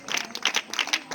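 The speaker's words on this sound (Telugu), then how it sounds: "గట్టిగా చప్పట్లు కొడుతూ పిల్లల్ని అభినందిద్దాం" A church revival crowd claps for the children: brisk, close, irregular handclaps in quick bursts throughout a short stretch.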